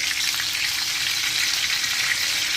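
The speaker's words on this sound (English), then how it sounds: "Now we're going to put our meatloaf mix in, brown that up a little bit" Ground meatloaf mix sizzles and fries steadily in a pot while being browned for chili, a dense, even crackle that holds at close range without a break.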